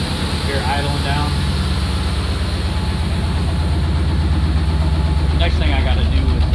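A rat rod truck engine idles close by with a steady, low, throbbing rumble, while a voice talks briefly over it at the start and end.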